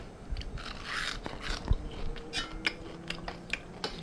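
Crunchy bites into a spicy Isan salad of mushroom and crisp water chestnut, several sharp crunches and chewing sounds spread over a few seconds, close to the mic and fairly quiet, with no talking.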